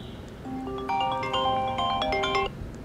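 A phone ringtone plays for an incoming call from a new number on an iPhone paired with AirPods Pro, a melodic electronic tune of stacked bright tones repeating steadily for over two seconds at moderate volume, with no talking.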